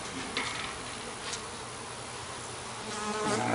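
A dense, steady hum of many honeybees buzzing close together inside a busy beehive, continuous and loud with slight swells throughout.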